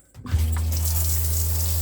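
Water runs steadily from the shower in a small bathroom built into a bus converted to a camper. The strong flow starts abruptly after a brief silence and then holds as a loud, even rush with no talking.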